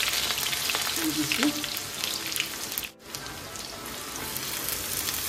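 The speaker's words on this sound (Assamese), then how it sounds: "পিঁয়াজখিনি ৰঙচুৱাকৈ ভাজি লওঁ" Onions frying in hot oil in a wok give a steady, dense sizzle with light crackle, near and continuous except for one brief dip midway. A voice speaks briefly at the start.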